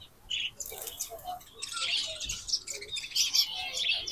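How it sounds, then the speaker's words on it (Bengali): Many kinds of caged birds chirp, tweet and squawk together at a bird market in Kuwait, making a dense, overlapping chorus of high calls at close range with no clear talk. "দেখছো কত ধরনের পাখি আছে।"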